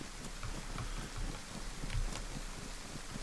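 Rain falls in the survival video game DayZ on the Livonia map, a steady soft hiss of drops with scattered patters and low rumbling undertones, fairly quiet and continuous with no voices.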